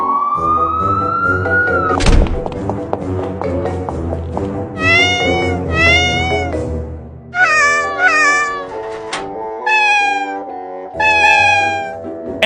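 A small kitten meows loudly and repeatedly in high, wavering cries that come in quick bursts, with a thud and a steady background tone near the start.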